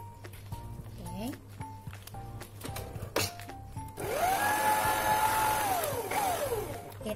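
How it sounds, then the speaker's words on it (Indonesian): An electric mixer whirs through a bowl of butter cream folded into whipped cream, coming in after a few short bursts and then holding a steady, loud hum that bends in pitch as the load shifts, with some talk around it. "Nah, ini aku akan mixer kembali hingga tercampur rata lagi."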